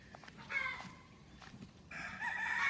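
Chickens in a winter backyard flock, with a rooster crowing loudly twice in close succession amid softer clucking, fairly near and with no talk over it.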